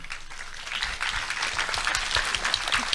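A convention panel audience at RTX breaks into applause, a dense, steady patter of many hands clapping at moderate level, slightly building through the stretch.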